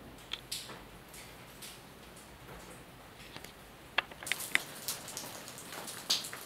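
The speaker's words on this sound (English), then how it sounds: "Okay guys, outside it's raining." Rain falling outside on the Atlantic coast of Morocco at Asilah: a steady, soft hiss with scattered drip ticks and a few sharper drops landing nearby.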